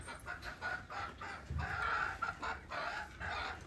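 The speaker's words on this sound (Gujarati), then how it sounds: "એક મરઘી ત્યાં બેઠી આવી" A hen perched nearby clucks in a rhythmic run of soft, repeated calls, fairly faint against low outdoor background noise.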